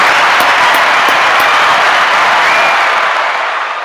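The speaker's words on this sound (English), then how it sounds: "Let's give those guys an applause" Applause and crowd noise for Sam Houston, a loud continuous wash of clapping with some cheering, holding steady and fading slightly toward the end.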